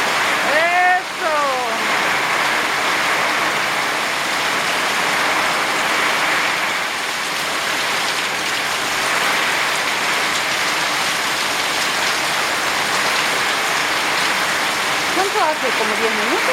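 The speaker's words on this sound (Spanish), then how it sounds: "Tormenta. Agua con lluvia. Agua con viento, ¿vieron?" Heavy rainstorm with wind, a loud dense steady wash of rain pouring on surfaces throughout, with brief chirping whistles near the start and end.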